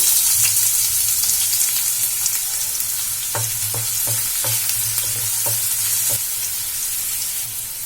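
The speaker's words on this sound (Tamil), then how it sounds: "வெங்காயம் லைட்டா வதங்கிடுச்சு. இந்த அளவுக்கு வதங்கினா போதும்." Finely chopped onion fries in hot oil in a pan with a constant close sizzle, punctuated by a series of short spoon scrapes and stirring knocks in the middle.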